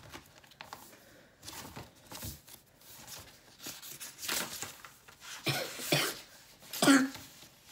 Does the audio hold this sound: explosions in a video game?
no